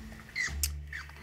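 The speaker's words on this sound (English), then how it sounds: "Here's a squirrel." A squirrel call played back by a phone voice assistant, a brief faint chattering squeak with a short rustling patter, quiet and isolated.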